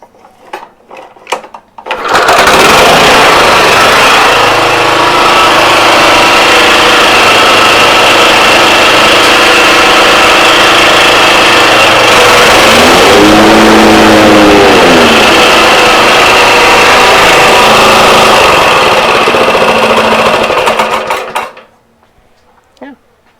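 Toro commercial lawn mower engine starting and running steadily for about twenty seconds, loud and close, with a brief change in tone midway before it cuts off.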